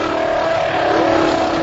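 A Honda Formula 1 engine bounces off its rev limiter above 18,000 RPM, giving a loud, close, steady high-pitched drone that holds an even tone throughout, with no voices.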